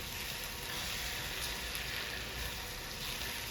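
Spices stirred into a frying pan for Egyptian eggah give off a steady, fairly quiet sizzle, an even crackling hiss throughout with no talking.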